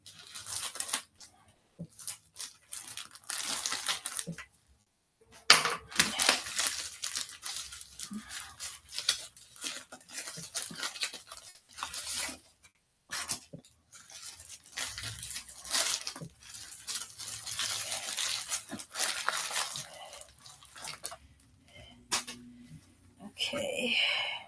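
Someone cuts open a package with scissors, making repeated short snipping and rustling bursts up close, with brief pauses between them.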